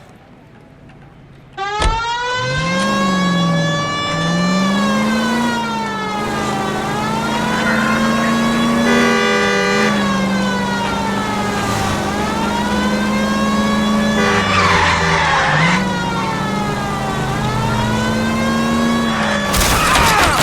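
Car driven in L.A. Noire, a 1940s-era vehicle whose engine revs up and shifts steadily through gears, loud and close, with a siren-like wail layered in and no talking.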